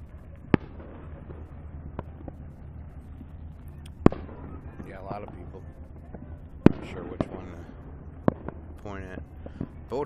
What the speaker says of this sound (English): some people at Bear Point are lighting up some fireworks